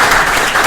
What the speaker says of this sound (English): I think a round of applause for Chris